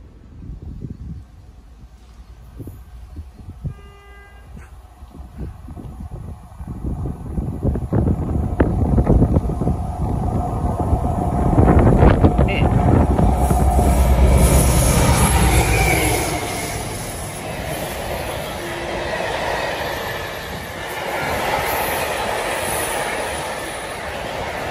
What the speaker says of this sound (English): Passing through now is some freight.